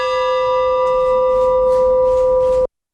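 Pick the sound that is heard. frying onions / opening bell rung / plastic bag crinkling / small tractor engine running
opening bell rung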